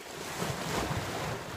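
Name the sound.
sea waves on a rocky shore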